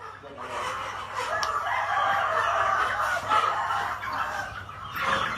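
Fighting roosters cluck and crow during a cockfighting match, a steady busy fowl sound with someone talking over it.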